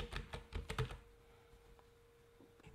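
Quick burst of clicky key presses on a computer keyboard, several taps in a fast run, then the typing stops and only a faint hum remains.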